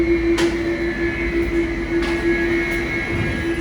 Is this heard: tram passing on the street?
yes